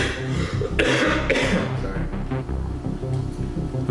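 Several harsh coughs and throat-clearing bursts, loud and close, in an uneven cluster.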